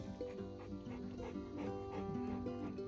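A dog named in a tribute to a pet bear-like breed barks and whimpers in a steady stream of yips and whines over constant background noise, fairly close, with no talking.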